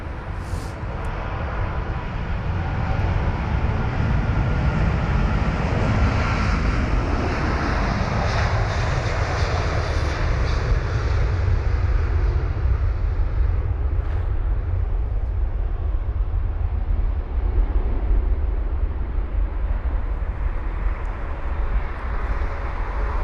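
An American Airlines Boeing 777-200ER at Heathrow delivers a loud, sustained jet engine roar that swells and then slowly fades as the aircraft passes, with a high whine riding over the deep rumble.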